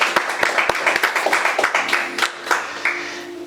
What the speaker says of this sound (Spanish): aplauso al Espíritu Santo que está en este lugar